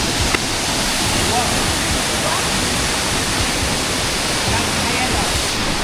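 A close, loud, unbroken roar of cascading water comes from Mantayupan Falls, a tall waterfall in Barangay Campangga, Barili, Cebu, steady from start to finish.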